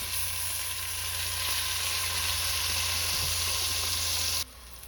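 Beef broth pours into a hot stew pot and sizzles in a loud, steady hiss for about four and a half seconds, then cuts off abruptly to a quieter background.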